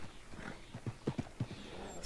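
A horse in the Western video game Red Dead Redemption walks with soft, uneven clip-clop hoofbeats, a handful of close thuds over a quiet background.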